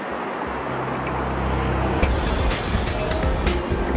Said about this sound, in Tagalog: dito sa aking kinatatayuan sa EDSA sa tapat lang ng MRT Quezon Avenue Station ay mabilis pa ang takbo ng mga sasakyan